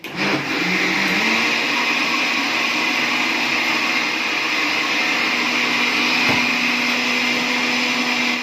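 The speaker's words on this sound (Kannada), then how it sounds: "ಇವಾಗ ದೋಸೆ ಇಟ್ಟು ರುಬ್ಕೊಳ್ಳೋದು ರುಬ್ಬೋದು ರುಬ್ಬೋದು" A wet grinder churns dosa batter with a loud, steady motor hum and whir that runs unbroken throughout, with no voices.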